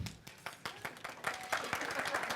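Audience applause at an anniversary gathering of the BCAN organization, a steady wash of many hands clapping that builds and thickens over a couple of seconds, fairly close and moderately loud, with no speech over it.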